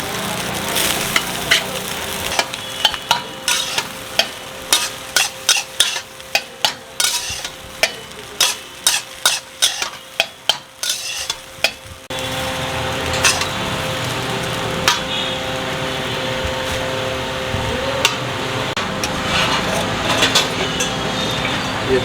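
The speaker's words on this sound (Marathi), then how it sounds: "आपण फ्राय मारतो मसूर" Masoor lentils and peanuts in a pan, first a run of sharp scraping and clinking stirring strokes, then a denser, continuous sizzle of frying that carries on to the end.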